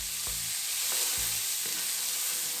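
Onions sauteing in a pan for an Indian malai kofta, a steady close sizzle with a few soft knocks of stirring over the frying hiss.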